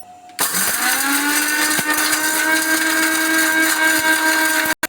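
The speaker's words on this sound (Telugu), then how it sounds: "అల్లం వెల్లుల్లి గసగసాలు చెక్క యాలకులు మొత్తం కలిపేసి దీనిలో వేసేయాలి మెత్తగా ఫైన్ పౌడర్ చేసుకోవాలి" An electric mixer grinder pulverizing ginger, garlic, poppy seeds and whole spices into fine powder: a loud, steady high-pitched whir that starts abruptly and runs continuously until cutting off near the end.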